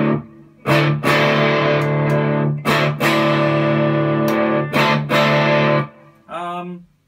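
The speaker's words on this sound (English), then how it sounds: "Amp distortion, bridge." A Fender Rosewood Telecaster on its bridge pickup played through amp distortion, loud sustained chords struck in several bursts with brief gaps, ending on a shorter ringing note.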